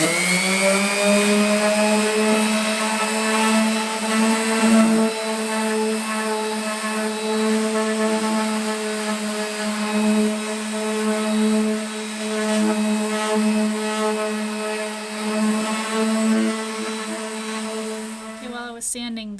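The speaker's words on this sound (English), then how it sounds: "we're going to sand the whole surface again" A power sander runs continuously on a wood surface with a loud, steady high-pitched whine and buzzing drone, shifting slightly in pitch as it works, then cutting off at the end.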